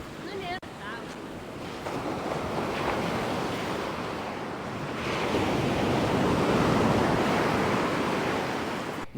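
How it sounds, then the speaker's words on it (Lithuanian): Strong wind buffeting the microphone at the seaside on the Portuguese coast, a loud continuous roar blended with surf that swells toward the end. "Čia labai pučia vėjas."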